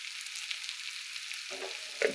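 Bitter gourd sizzles in a pan over a steady quiet hiss, with brief scraping stirs breaking in near the end.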